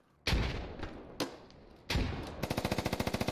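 Gunfire in the video game Squad: a few heavy, booming shots spaced apart, then a rapid, evenly pulsed automatic burst, loud and close with no talk.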